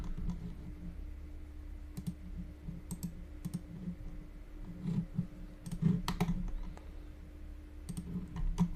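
Mouse and keyboard clicks while drafting structural members in AutoCAD Plant 3D, sounding as sparse, close, quiet taps and clicks scattered at irregular intervals over a faint steady room hum.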